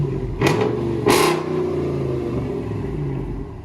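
A Ram 2500 Power Wagon with a 6.4L HEMI V8 revs in two sharp bursts close by, each flaring up and falling back to a deep, rumbling idle.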